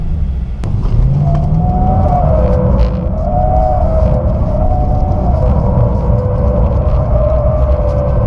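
A car engine revs and holds steady RPM during a drift, with a continuous loud rumble and a wavering engine tone that rises and falls throughout.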